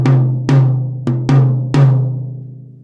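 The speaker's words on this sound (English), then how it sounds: "middle tom" A middle tom of an acoustic drum kit, tuned high and without muffling, is struck five times, each hit ringing with a pitched, resonant decay, close and unaccompanied.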